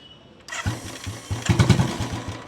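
A 2017 Royal Enfield Classic 350 motorcycle with an aftermarket bent exhaust pipe starts up at a used bike dealer in Rajkot. The engine catches after a brief crank and settles into a low, uneven thumping idle.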